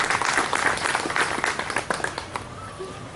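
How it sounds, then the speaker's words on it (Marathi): An audience applauds at a felicitation ceremony honouring a doctor, giving a dense round of hand clapping that thins and fades toward the end as a faint voice emerges. "मला वाटतं याच्यासाठी टाळ्या व्हायलाच पाहिजे."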